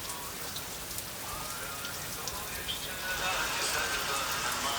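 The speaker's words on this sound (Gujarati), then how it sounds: "વરસાદ જેવો આવે જો." Heavy rain pelts down during a rainy-season downpour with flooding water, making a continuous dense patter that swells louder toward the end.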